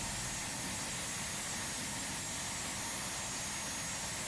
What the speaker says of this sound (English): plane has started completely